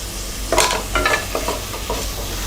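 Tomatoes and mint leaves fry with onions in a pan, producing a soft continuous sizzle broken by a few brief scraping stirs.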